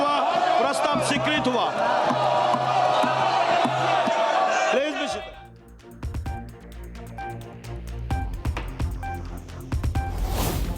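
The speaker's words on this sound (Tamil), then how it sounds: "காங்கிரஸ் உள்ளிட்ட எம்பிக்களின் கூச்சல் குழப்பத்தால் மக்களவை நாள் முழுவதும் ஒத்திவைப்பு." MPs shouting in uproar in India's Lok Sabha, a dense roar of many overlapping raised voices for about five seconds, then quieter chamber noise with scattered knocks and murmurs.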